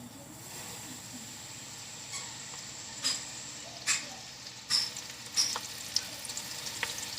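Onion strips and jalapeño slices frying in hot oil, a steady close sizzling hiss with a few soft clinks of stirring, no speech.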